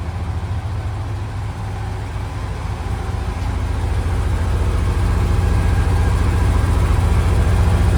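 An old oil-field 1-ton truck engine idles steadily with a loud, deep, continuous rumble close by, slowly building a little in volume, with no talk over it.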